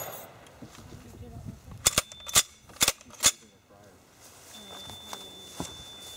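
Several sharp, loud single shots from a Browning 1919 machine gun ring out in quick succession, with quieter handling noise and faint talk around them.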